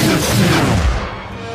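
A cartoon giant gun firing in a Family Guy Star Wars parody, one heavy booming blast that fills the moment and then rolls off into a fading rumble.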